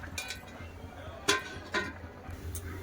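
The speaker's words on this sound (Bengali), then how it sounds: "এবার চাপা দিয়ে দেবো" Several light metallic clinks and taps from kitchenware, a sharper clank in the middle as a lid settles onto a pot, with quiet background between.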